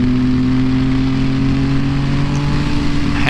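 A 2014 Yamaha FZ-09 motorcycle engine holds a loud, steady, close drone with strong low harmonics, the pitch staying fairly even through most of the span before rising slightly near the end.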